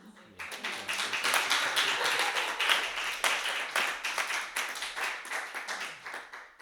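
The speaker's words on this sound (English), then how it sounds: "I feel like we should clap again" Audience applause at a book launch party, dense steady clapping from many hands filling the room, fairly close and loud, tapering slightly toward the end.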